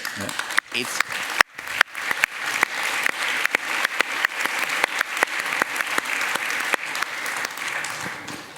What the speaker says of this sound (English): this story I think deserves an applause